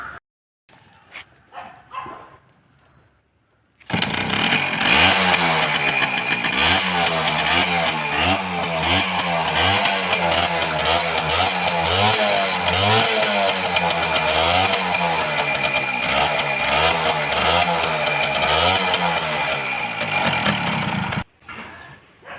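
After a few quiet knocks and rustles, a 1999 Suzuki Max 100 motorcycle engine fires up and idles with a steady, throbbing rumble for a long stretch, then cuts off abruptly.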